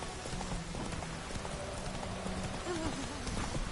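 The horse Roach's hooves clip-clopping in The Witcher 3: a continuous, busy patter of hoofbeats under steady ambient noise, with a voice murmuring faintly in the background.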